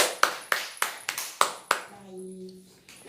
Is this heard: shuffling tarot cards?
no